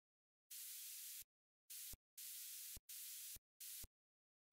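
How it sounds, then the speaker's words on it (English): Bursts of white noise layered into a future house track, five short hissing blocks gated on and off in a choppy, sidechained rhythm, each ending abruptly, with silence between them. "Then I layered some white noise to it."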